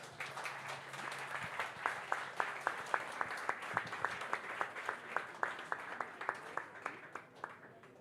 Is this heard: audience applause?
yes